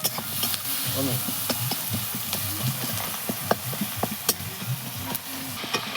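Onions frying in oil with a pinch of salt in a home kitchen pan, a steady close sizzle broken by frequent sharp clicks and scrapes of stirring, with faint background voices and clatter.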